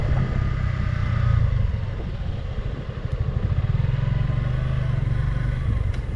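Suzuki Gixxer 155 Fi motorcycle downshifting into third gear without rev matching, its engine droning low and steady with a rough, pulsing exhaust throb as the bike engine-brakes, close and continuous throughout.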